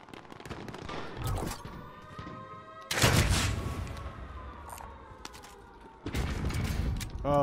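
Gunfire in Call of Duty Modern Warfare comes in two loud bursts of rapid shots around a quieter, busy stretch of game sound and mechanical clatter, fairly close, with a faint voice underneath.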